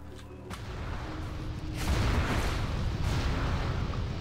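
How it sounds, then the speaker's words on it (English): A World of Warcraft naval battle in Bloodsail territory with Brashtide pirates under repeated cannon fire, heavy booming blasts rumbling over a constant loud low roar, swelling louder partway through. "they're taking cannon fire!"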